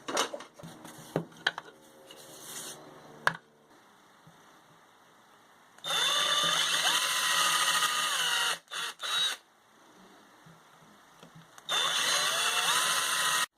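A power drill bores holes in a workpiece for a homemade rotary tool router table: two long, loud, steady whines separated by short stops, with clatter and handling noises at the start.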